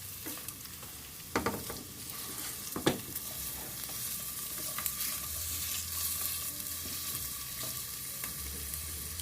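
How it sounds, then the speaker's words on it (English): Vegetables stir-fry in coconut oil over high heat, a constant close sizzle broken by scraping and clattering stirs in the pan, busier at the start and then settling into a steady fry with no one speaking. "I'm going to stir this pretty vigorously for a moment and get it all coated with the coconut oil"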